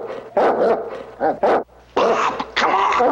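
A dog barks repeatedly in short bursts mixed with whimpers and yips, close and loud, with a voice briefly between.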